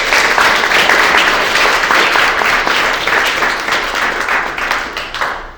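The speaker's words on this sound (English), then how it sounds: "Hey guys, just give them a round of applause." An audience at a pitch night event gives a round of applause: dense, steady clapping from many hands, loud and close, holding level before it tapers slightly at the end.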